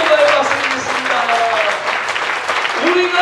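Congregation clapping together at a church pastors' seminar, a steady wash of applause lasting throughout with a voice carrying on over it.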